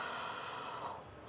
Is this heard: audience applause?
no